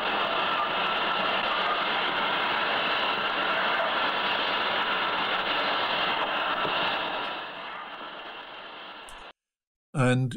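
A train arrives and departs on the Somerset and Dorset line between Evercreech Junction and Templecombe, heard as a loud, continuous broadband rumble and hiss. The sound fades in the last seconds and then cuts out abruptly.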